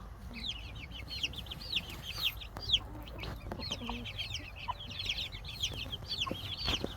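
Many chickens cluck and 15-day-old chicks peep continuously, a busy chorus of short chirps close by over soft background noise.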